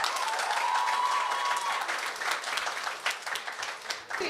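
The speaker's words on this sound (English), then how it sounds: "give us a round of applause" A school audience applauds in a steady, dense wash of clapping that holds for several seconds, then thins and turns more scattered toward the end.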